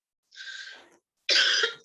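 Two harsh, breathy coughs up close, the second louder and more forceful, with a sharp catch right after.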